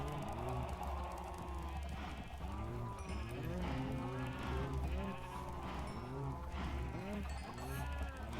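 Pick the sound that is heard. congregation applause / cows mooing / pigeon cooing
cows mooing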